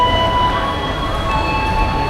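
A train idles at a station platform, giving off a steady low rumble with thin sustained whining tones layered above it.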